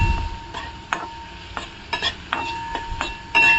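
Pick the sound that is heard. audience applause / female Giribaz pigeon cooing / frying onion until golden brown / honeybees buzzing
frying onion until golden brown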